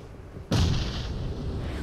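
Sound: grenade explosion in Free Fire video game

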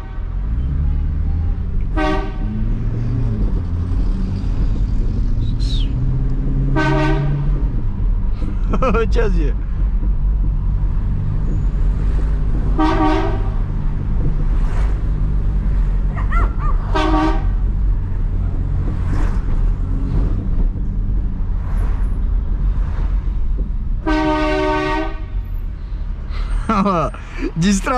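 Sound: ship horn fitted on a Camaro

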